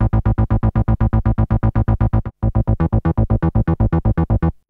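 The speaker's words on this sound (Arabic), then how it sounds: "انا اشغل الاربيجيتر" Arturia MiniFreak synthesizer bass patch with the arpeggiator on, a fast steady run of punchy, evenly spaced bass notes, loud and alone, with a brief gap midway before the pattern resumes.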